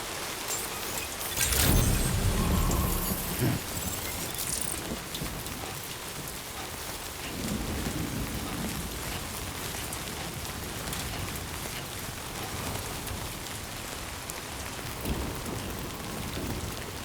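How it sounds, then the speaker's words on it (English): Steady rain pours in Death Stranding 2, with a louder burst of downpour or rumbling thunder near the start, then a continuous dense hiss of drops falling on surfaces throughout. "Raindrops are falling on my head"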